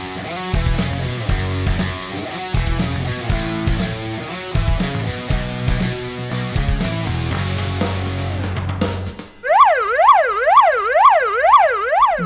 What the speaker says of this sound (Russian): Два часа вой сирен не смолкал в парке культуры и отдыха.